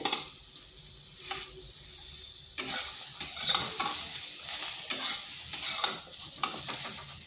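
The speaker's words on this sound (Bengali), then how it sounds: "পটলটাকে একটু সময় ধরে এইভাবে নেড়ে চেড়ে ভেজে নিতে হবে।" Pointed gourd (potol) frying in oil gets stirred with a spatula, making a continuous sizzle under repeated scrapes and knocks against the pan. The sizzle grows louder and busier about a third of the way in.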